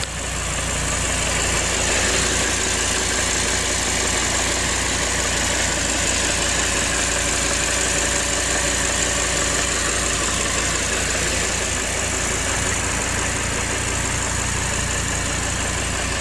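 A 2012 Audi R8 Spyder with its 5.2 FSI V10 idles steadily and loudly up close, a constant smooth engine drone running unbroken for the whole stretch.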